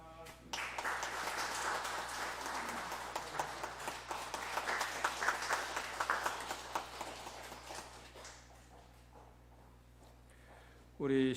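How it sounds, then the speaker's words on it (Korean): A church congregation at a Sunday morning service applauds together, a sustained wash of many hands clapping for several seconds that gradually thins out, with a brief voice at the end. "여러분들 박수로 축하해 주시기 바랍니다"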